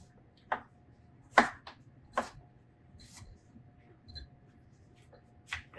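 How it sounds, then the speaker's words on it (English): A knife cuts through butternut squash in several separate crisp chops, close and fairly quiet, with short pauses between strokes. "then we just like to cut it into slices"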